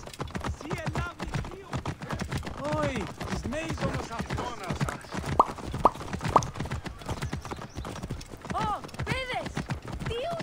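Horses gallop in Assassin's Creed Origins with steady rhythmic hoofbeats clip-clopping close by, while someone talks over them throughout.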